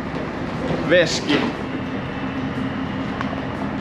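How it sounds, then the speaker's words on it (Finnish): A passenger train rolls along its rails on an interrail trip from Tallinn toward Valga and Riga, heard from inside the carriage as a steady low rumble with a couple of brief squeals, under a person talking. "Nyt on juna ollut hetken aikaa jo liikenteessä"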